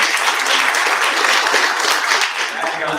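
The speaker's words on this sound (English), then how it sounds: "give a round of applause for Ayana." Audience applause at a wealth and politics summit with a mayoral candidates forum: close, loud, continuous clapping for three seconds, with speech blended in.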